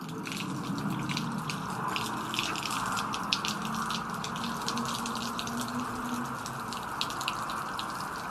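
Water spraying out of straws in a steady, continuous hiss and gush with faint splashing drips, a moderate, even rush with no talk.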